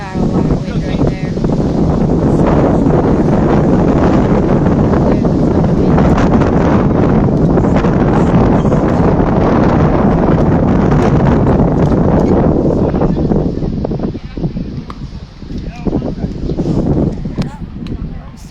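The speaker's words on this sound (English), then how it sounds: "Got a lot of wind right there." Strong wind buffets the microphone beside an outdoor pickleball court during a men's 3.5 19+ gold medal match at a regional tournament, a loud steady rush that eases toward the end, with voices talking under it.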